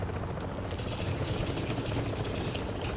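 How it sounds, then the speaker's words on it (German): A helicopter drones steadily in The Division, a constant low rotor rumble with a thin high whine on top, filling the scene without any talk. "Aber der Heli kommt jetzt."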